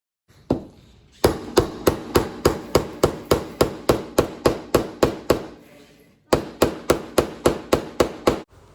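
Mallet or hammer strikes driving scrap 2x4 mortise and tenon pieces together in a workshop: a loud, rapid regular series of sharp wooden knocks, a short pause, then another run of evenly spaced blows.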